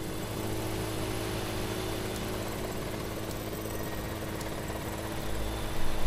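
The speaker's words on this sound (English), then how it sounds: "We're going to grab the helicopter and get a bird's eye view of the islands." Helicopter in Farming Simulator 2017 flying over islands, a dense steady rotor and engine roar, loud and continuous throughout, building slightly at the end.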